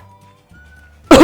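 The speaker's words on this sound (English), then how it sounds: "Cough." A single loud, close cough bursts out at the end after a stretch of near silence with a faint low hum.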